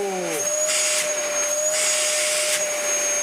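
A Dyson DC33 upright vacuum cleaner runs steadily after servicing, with a loud, continuous high whine and airy motor roar close by, its pitch settling after start-up and wavering slightly as it works.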